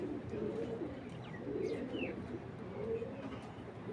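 Racing pigeon cooing in repeated low, throaty rolling phrases close by, with a few faint chirps from other birds over a steady background hum.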